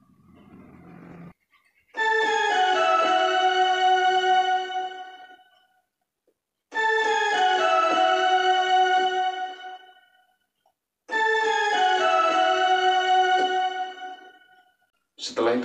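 Choir voice patch on an electronic keyboard playing dangdut, three sustained chords each ringing for several seconds with gaps between, solo with no talk.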